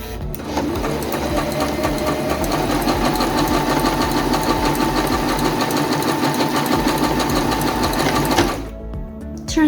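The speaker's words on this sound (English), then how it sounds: "Sew stitch D to complete your buttonhole." A Singer M1250 sewing machine runs steadily while stitching buttonhole stitch D, a fast, even mechanical whirr and needle clatter lasting several seconds at close range before stopping abruptly near the end.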